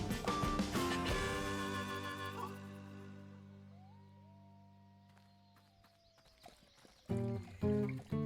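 Horse sounds in the Roblox game Sonora: a loud harmonic whinny-like call fades over a few seconds, followed by a thin gliding tone and a few louder bursts near the end, with no talking.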